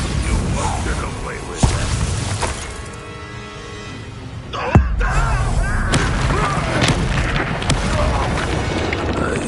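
Bombarda spell explosions in the Hogwarts Legacy video game, loud booming blasts with a sharp crack near the middle and dense rumbling debris, set against continuous game effects and a dramatic background.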